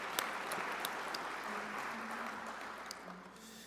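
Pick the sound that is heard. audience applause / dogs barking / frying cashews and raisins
audience applause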